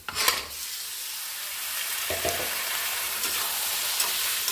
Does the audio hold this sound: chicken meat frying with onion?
yes